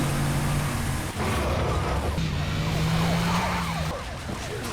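Wailing police sirens ring out on a busy New York street as a large container truck is chased, the sirens loud and wavering over steady traffic rumble.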